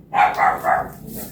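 A dog barks three times in quick succession, close and fairly loud, followed by a softer trailing yelp, with no talk over it.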